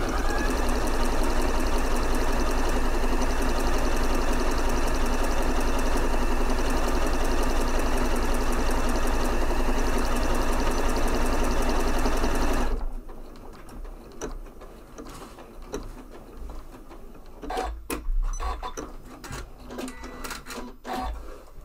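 A Janome 9480 sewing machine quilting with glitter thread hums loudly and steadily at full stitching speed for about thirteen seconds, then stops, leaving quieter handling clicks and rustles of fabric.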